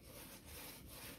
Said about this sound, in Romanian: putem începe șlefuirea în totalitate de-a lungul pietrei